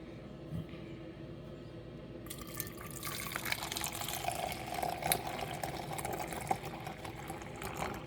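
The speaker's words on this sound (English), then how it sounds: "you're just going to pour it from one pitcher to the other at a very long height" Masala chai poured from a height between two pitchers makes a continuous splashing, gurgling stream of liquid that grows fuller and louder after a quieter start.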